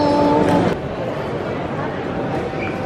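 Busy indoor train station ambience in France, a steady wash of distant crowd chatter and movement, with a louder tonal hum at the start that fades out.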